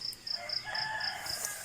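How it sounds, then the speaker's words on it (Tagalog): A rooster perched in a mango tree crows in the morning at a rural camp in Kuyambay, Tanay, Rizal, heard at a distance over a steady shrill insect trill that pulses evenly throughout, with no voices. "Tilaok ng manok sa umaga."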